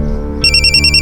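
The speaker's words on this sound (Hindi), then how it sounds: "खान सर का फोन।" A telephone starts ringing partway through, a loud, close electronic ring with repeating high tones over a low background hum in a police-drama scene.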